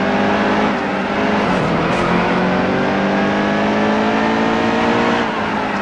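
Race cars roar around Bristol in NASCAR Heat 2, a loud continuous engine drone with rising and falling pitched whines as cars run close alongside, with no talk.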